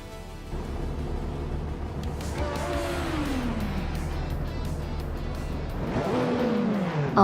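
A field of race cars launches off the start at Mid-Ohio in a racing video game, engines droning steadily together with rising revs and a brief tire squeal, loud and continuous throughout.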